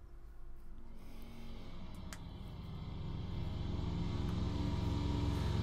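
Yang's motorcycle from a RWBY animated short, an engine rumbling steadily and growing louder as it approaches, alone without talk.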